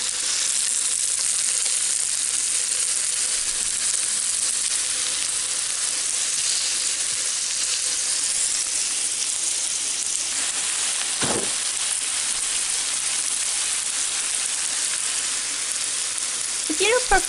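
Fish meatballs made with garlic, cilantro and onion sizzle steadily on an indoor grill, a loud continuous frying hiss that fills the whole stretch, broken only by a brief knock or scrape near the middle and again at the end.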